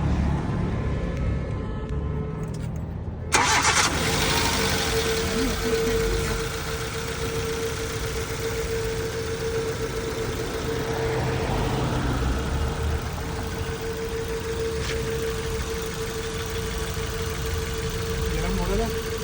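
A used Jammer car with 181 km on the clock, in Saudi Arabia, cranks briefly and then settles into a steady, low mid-pitched idle that runs on at close range, with voices talking over it.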